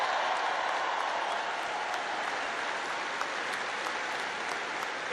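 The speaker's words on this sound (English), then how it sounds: "let's give a big round of applause to the leaders of this state who chose liberty over lockdowns" Sustained applause from a large commencement audience at the University of Alabama, a dense, steady wash of many hands clapping at even loudness throughout, with a faint murmur of the crowd underneath.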